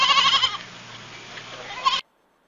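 A sheep bleats in a close, quavering call lasting about two seconds, wavering in pitch before cutting off into silence.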